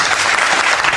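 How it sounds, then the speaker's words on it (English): Loud crowd applause, a dense wash of many hands clapping, steady and close throughout the short burst. "The crowd thinks that's a great decision."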